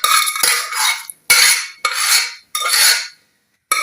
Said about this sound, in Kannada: ಇವಾಗ ಒಂದ್ಸಲ ತರಕಾರಿ ಎಲ್ಲ ಹಾಕಿದ್ಮೇಲೆ ಚೆನ್ನಾಗಿ ಮಿಕ್ಸ್ ಮಾಡಿ